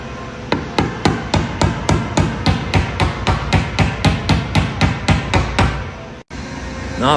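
Hammer tapping out a dent in a car's metal quarter panel, a steady run of about twenty sharp, evenly spaced metallic blows, close and loud, ending with a short gap and a final strike.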